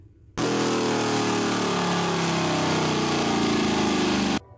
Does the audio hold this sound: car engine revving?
yes